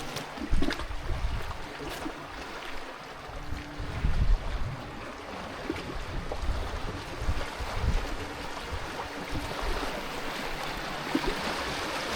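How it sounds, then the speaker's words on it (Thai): Sea waves wash steadily against the shore of a small island, a continuous rough surge with occasional louder swells, mixed with wind buffeting the microphone and no voices. "คลื่นมากเลย"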